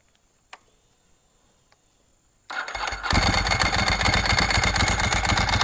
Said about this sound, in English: So we'll see if we can fire it up and it goes in gear without grabbing the clutch.